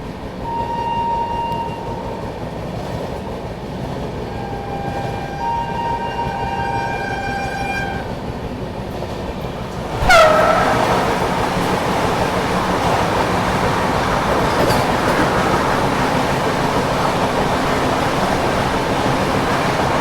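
The Banaras Vande Bharat Express approaches from the opposite direction and sounds a sharp horn blast, then rushes past as a loud, sustained roar of wheels and wind that continues to the end.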